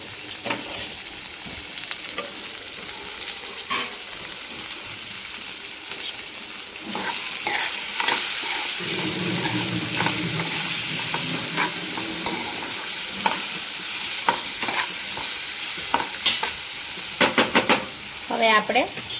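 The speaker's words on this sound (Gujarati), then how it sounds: "હવે આપણે ચડવા દઈશું મરચાંને 2 થી 3 મિનિટ સુધી" Chillies sizzle and fry in a pan while being stirred for Gujarati flour sambharo, a steady close crackling hiss with occasional scraping stirs, no talking.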